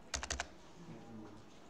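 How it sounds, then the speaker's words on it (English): A computer keyboard clacks in a quick burst of four keystrokes, close and crisp, then trails into a quiet room with faint low hum. "So I'm typing a heading, a comment here"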